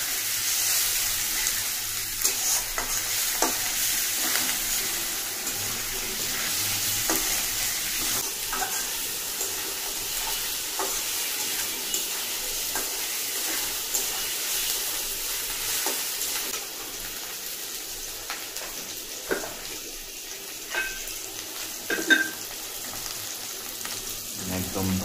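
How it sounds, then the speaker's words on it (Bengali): Chicken with tomato fries in a pan, a long, steady, hissing sizzle punctuated by irregular stirring scrapes and clinks, with a wetter, watery edge to the sound throughout. "একদম ভাজা ভাজা হয়ে আসছে।"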